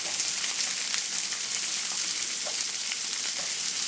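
Mushrooms sizzle and crackle steadily in a hot pan, a close, dense frying hiss with small pops and no voices.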